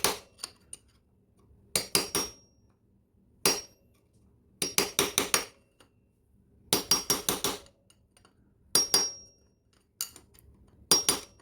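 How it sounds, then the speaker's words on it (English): Big screwdriver hammered to pry open a motocross chain link on a Yamaha YZ250F, sharp metallic strikes in quick bursts of two to five blows separated by pauses, close and loud. "then finally use a big fat screwdriver, and then you can hammer it like this."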